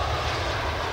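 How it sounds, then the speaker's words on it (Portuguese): An airplane passes overhead near an airport, heard from a fishing spot: a loud, steady engine roar that fills the whole moment without a break. "Tem até um avião aqui, ó, por aqui, ó,"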